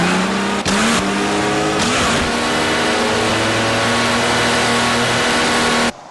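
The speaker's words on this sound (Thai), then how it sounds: "การขับรถเร็วเกินกว่า90กิโลเมตรต่อชั่วโมงเป็นการสิ้นเปลืองโดยใช่เหตุ" A car drives at high speed on the road, its engine holding a loud, steady roar with gear-shift dips and rising pitch before cutting off abruptly near the end.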